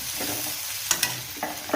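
Tempering for kadhi pohe sizzles in a small amount of oil, a continuous moderate frying hiss broken by a few sharp crackles and spatters near the middle and end.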